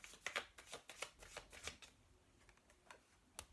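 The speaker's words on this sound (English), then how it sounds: "I'm just doing some Chuck Spezzano love cards" Chuck Spezzano love cards riffle and snap in a quick burst of close, crisp shuffling clicks, then a few softer scattered card taps.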